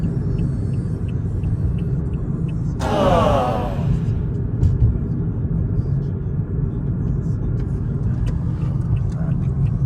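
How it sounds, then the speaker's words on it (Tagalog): Steady road traffic with many cars passing, a continuous low rumble throughout and one louder vehicle sweeping past close by early on. "Ito yung maraming mga sasakyan guys."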